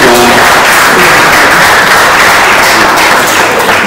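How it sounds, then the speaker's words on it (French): Loud, dense audience applause at a festival: sustained, even clapping from a large crowd close to the microphone, continuous and unbroken for several seconds with no talk over it. "une fois de plus, applaudissez le grand soir."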